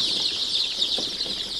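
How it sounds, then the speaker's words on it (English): Young layer chicks in a poultry house, a dense chorus of high, shrill peeping and cheeping that is steady and close, with no talking. "these chicks here are only layers, they are for eggs"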